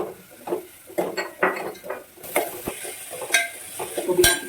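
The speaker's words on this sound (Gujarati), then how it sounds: "કાંદા નાખી દઈશું, લીલું લસણ નાખી દઈશું," Chopped onion and green garlic tipped into a hot pan for manchow soup, bursts of sizzling and frying with spatula scrapes and metal clinks against the pan, close and fairly loud.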